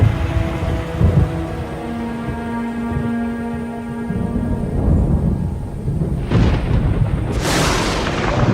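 Deep thunder from lightning strikes on a stormy summer night rolls and booms loudly, with a sharper crack near the end.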